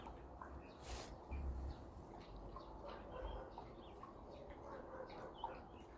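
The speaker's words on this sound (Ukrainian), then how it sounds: "Пташки співають." Faint, scattered birdsong chirps drift through a quiet spring garden with a blossoming pear tree in Dnipro, Ukraine, with a brief rustling burst near the start.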